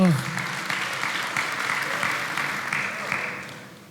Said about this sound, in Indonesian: Mana tepuk tangan buat Tuhan?